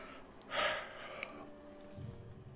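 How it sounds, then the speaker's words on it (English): A single drawn-out yawn with a breathy, rising exhale, quiet and close, followed by a faint low murmur, with no words spoken. "Pardon the yawn."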